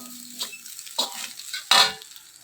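A spatula stirs rice in a hot pan for hotel-style egg fried rice, with a light sizzle and three distinct scraping strokes, the last one loudest, close by and without talk.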